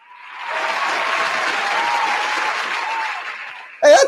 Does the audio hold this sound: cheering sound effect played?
yes